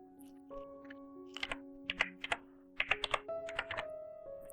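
Name being typed on a computer keyboard while setting up a game in GDevelop: a quick run of close, light key clicks in short bursts over a faint steady background tone.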